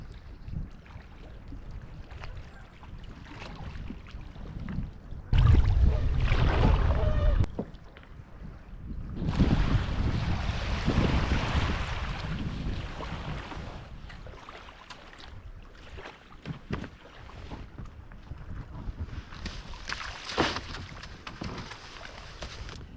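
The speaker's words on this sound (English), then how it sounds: "And it's been quite windy." Wind gusts batter the microphone at a lakeside kayak wild camp on Inishail, Loch Awe, coming in strong rushing bursts that swell and fade between calmer, quieter stretches.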